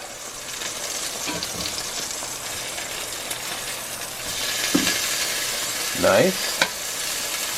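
Burger and fries frying in a cast iron pan, a steady close sizzle and crackle with occasional clinks and scrapes of utensils, and a brief voice speaking once over it.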